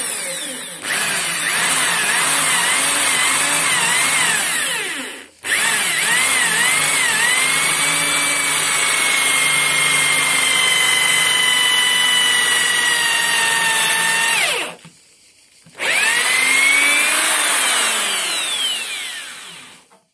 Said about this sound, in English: now I'm going to drill them.